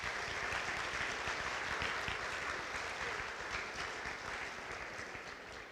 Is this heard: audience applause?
yes